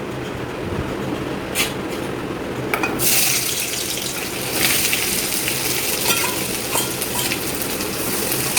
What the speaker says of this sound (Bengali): এবার আমি কড়াইয়ে ঝটপট পেঁয়াজ কুচিগুলো দিয়ে দেবো।